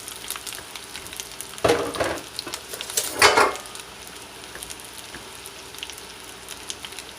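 Onions hitting hot oil in a pan give two loud, short sizzling bursts a little over a second apart, then settle into a soft, steady frying hiss close by.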